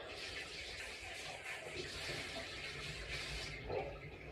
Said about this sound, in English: So first we'll give them a wee wash under the tap.